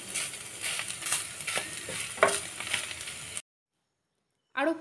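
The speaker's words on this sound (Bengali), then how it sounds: "আরও 5 মিনিট এটাকে আমি ভালো করে ভেজে নিয়েছি।" Spiny gourd frying with grated coconut in a pan, a steady sizzle with occasional stirring scrapes for about three seconds before it cuts to silence, then resumes briefly.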